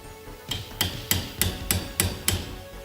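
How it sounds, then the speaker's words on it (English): A hammer strikes a wrench seven times in a steady rhythm to break an old nut loose during a Roadrunner stock car build in a garage, sharp metallic clanks ringing out clearly and close. "And that is a hammer."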